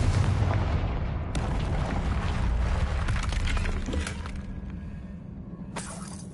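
A Confringo blasting spell erupts in the video game Hogwarts Legacy, a loud booming explosion with rumbling low end and crackling debris, followed by a second sharp blast as the roar decays.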